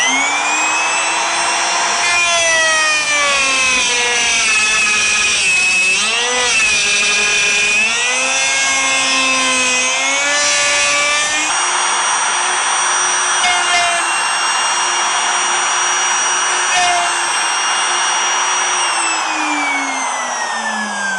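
A router cutting dovetail tails in a General 861 dovetail jig, a loud steady high-pitched motor whine that shifts pitch as it bears into the wood, running continuously with no talk.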